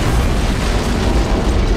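Antimatter charge exploding aboard a starship in Halo CE, a loud, dense roar of blast and rumbling debris filling the whole moment without letup.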